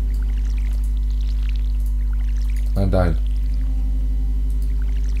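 Crops get watered with a watering can in Stardew Valley: one short splashing pour lasting about half a second, set against a steady low hum, with someone speaking briefly.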